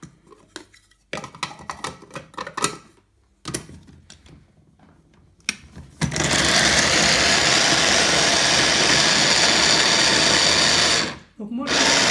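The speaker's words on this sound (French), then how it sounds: "les oignons, la gousse d'ail et le gingembre que je vais donc hacher à l'aide d'un robot" A food processor chops onions, a garlic clove and ginger. Scattered clatter and handling noises come first, then a loud continuous whirring runs for about five seconds and cuts off, followed by a brief restart.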